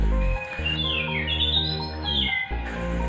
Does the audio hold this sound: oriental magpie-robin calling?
yes